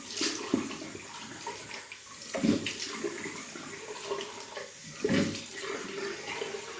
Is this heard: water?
yes